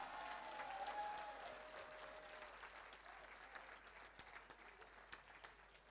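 A church congregation at a morning service in Guadeloupe breaks into steady applause, dense clapping that starts strong and slowly tapers, heard from a moderate distance with faint voices mixed in.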